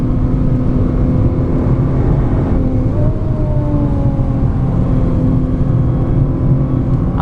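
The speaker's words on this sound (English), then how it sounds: "The titanium exhaust on the new model definitely makes a nice noise." Nissan GT-R (2017 model) with a titanium exhaust, its engine note droning steadily while lapping Spa-Francorchamps in torrential rain, with a rising tone in the middle under constant road and spray noise.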